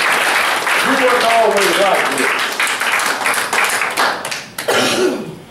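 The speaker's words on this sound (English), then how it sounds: "You ought to clap and give God praise for being in the right mind" A church congregation claps in praise during a sermon, dense ragged applause that thins and breaks up toward the end, with the preacher's voice speaking over it.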